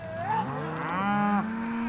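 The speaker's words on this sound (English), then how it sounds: "There's a lot of cows out there" Cows on a cattle drive moo in a long, rising and falling bellow, loud and fairly close, with other cattle lowing faintly underneath.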